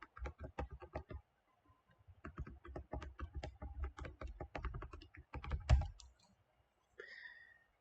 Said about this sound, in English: So you can type that in your calculator page.